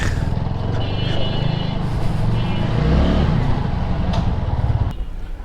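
A motorcycle engine runs close and loud, its steady drone shifting in pitch as gears are changed down, then cutting off near the end.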